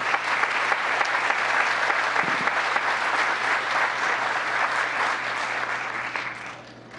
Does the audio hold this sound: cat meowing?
no